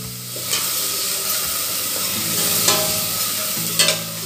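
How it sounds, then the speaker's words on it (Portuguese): Garlic sizzles and fries in a hot pan as the base for seasoned rice, a steady close crackle with a spoon stirring and scraping through it in several bursts, no talking. "Vamos colocar o alho. Uma refogadinha, né?"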